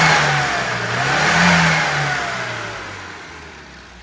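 A car engine fitted with a new, modified carburetor revs up and eases back down, loud and close, with a steady rising and falling drone and no talk.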